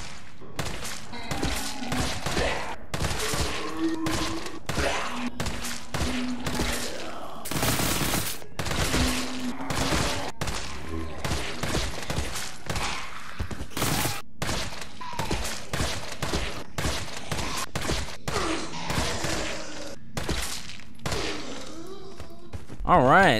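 Rapid assault rifle gunfire from Resident Evil 3 Remake, fired at zombies in single shots and short bursts, loud and continuous throughout with dense thumping impacts, occasional groans and game sound effects.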